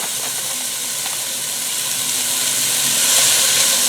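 Carrots, celery and onions fry steadily in a hot pan over medium-low heat, a continuous broad sizzle and hiss that swells slightly toward the end, heard close with no talking.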